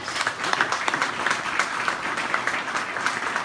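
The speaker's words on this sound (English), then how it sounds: "give him a big round of applause, please" An audience at a meeting claps together in a steady round of applause, a dense, even patter of many hands close by, sustained for a few seconds with no talking over it.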